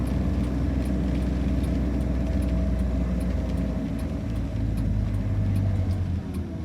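A car drives on a road on the way home at Christmas, its engine and tyre rumble a steady, close, continuous drone with no talk over it.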